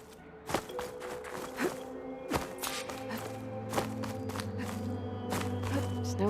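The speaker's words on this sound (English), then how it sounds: "Snow crunch under my boots." Boots crunch across snow in the video game Horizon Forbidden West, a handful of separate, fairly close footfalls over a low, steady ambient drone and tones.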